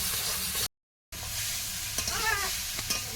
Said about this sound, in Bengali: সব কিছু দিয়ে মোটামুটি এখন এক টানা নাড়াচাড়া করবো